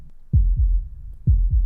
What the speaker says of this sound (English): Heartbeat with a creepy echo.